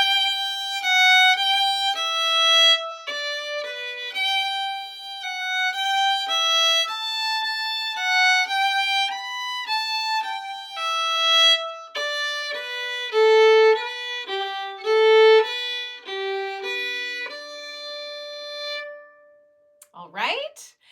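Second half of the Irish reel Johnny Will Ya Die played as a clear solo melody on a single bright instrument, a steady stream of running notes with a brief noise at the very end.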